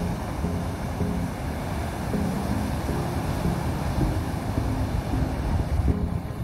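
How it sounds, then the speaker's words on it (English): Strong sea waves surge and roar continuously on the shore of a camping island, a loud, wind-buffeted wash of surf with no voices present. "There's so very strong waves here."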